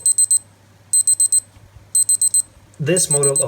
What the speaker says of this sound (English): The timer beeps for 10 seconds